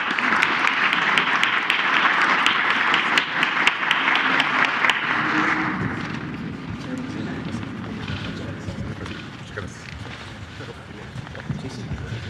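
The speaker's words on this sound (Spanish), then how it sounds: "Un aplauso." Applause from a large audience at a Mexican presidential press conference, loud dense clapping for about six seconds that then fades into murmuring and someone talking.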